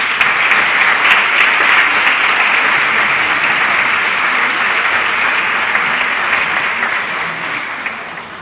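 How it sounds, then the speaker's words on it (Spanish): Audience at a talk in Cáceres giving a speaker a loud, steady ovation of dense clapping that holds for several seconds before slowly easing off, with a few sharp individual claps standing out. "Recibamos con un fuerte aplauso a Antonio Cortés."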